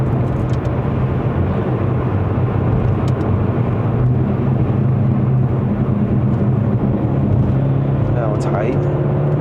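A Ford Focus S+ with a 1.5L EcoBoost engine drives in Sport mode while being downshifted with paddle shifters, heard from inside the cabin as a loud, steady engine drone with road rumble and a faint voice.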